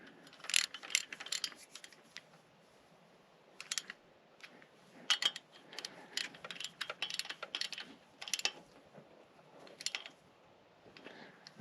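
Bursts of ratchet clicking as bolts are snugged down on the engine accessories of a 1977 Ford Highboy, close and fairly quiet, coming in short irregular runs separated by pauses.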